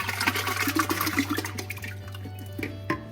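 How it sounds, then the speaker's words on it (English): Tomatoes poured into a simmering Sunday gravy sauce: close, wet splashing and sloshing with a few pot clinks over a steady low hum, with no talking. "Here now we're adding the tomatoes to the sauce."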